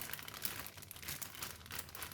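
A plastic bag holding marinated pork belly crinkles softly and close by in a kitchen, with faint, irregular rustles and crackles.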